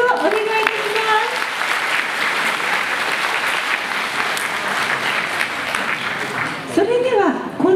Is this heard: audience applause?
yes